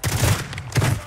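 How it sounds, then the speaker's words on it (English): Gunfire in Call of Duty Warzone strikes the player as two loud, close bursts of shots, separated by a brief gap. "Oh, he just shot me."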